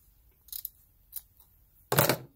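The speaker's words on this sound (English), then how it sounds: "So I'm just going to trim some of this away to make it a little bit easier." Scissors make a few quick snips trimming away material on a sewn foot: a close pair of cuts, two lighter clicks, then a louder, longer snip.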